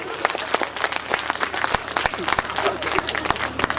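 Loud, dense applause from a live audience at a Hindi comedy poetry show, with sharp individual claps standing out across the whole stretch and some voices mixed in.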